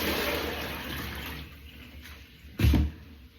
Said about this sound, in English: Tip the water away.